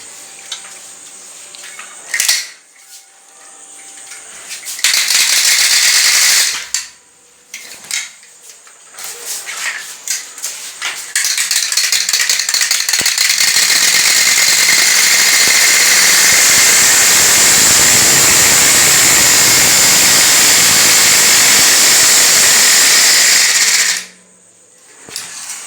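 A bicycle makes a loud, buzzing clatter in long bursts, likely something rattling against the spinning wheel, with short gaps and then one sustained stretch of more than ten seconds before it stops.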